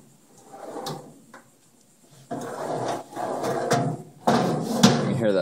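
A drawer on a damaged six-drawer Husky tool box is slid open and shut several times, giving close, loud rolling slides that end in sharp clunks, with quieter gaps between the movements.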